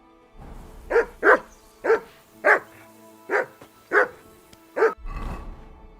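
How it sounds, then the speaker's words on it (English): A dog in the medieval video game Kingdom Come: Deliverance II barks in a steady series of about seven sharp, loud woofs, evenly spaced, followed by a low rumble at the end. "Whistle at that mutt of yours to stop barking!"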